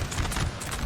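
Cavalry horses charging in a Napoleon Total War battle, a dense rumble of many galloping hooves with continuous clip-clop close and loud throughout, no talk.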